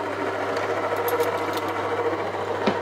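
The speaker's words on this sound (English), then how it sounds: "I'm just gonna let that run slowly to mix all the dry ingredients." A stand mixer fitted with a dough hook runs slowly through dry ingredients in a bowl, giving a steady, fairly loud motor hum with a low mechanical rumble and faint rhythmic clatter.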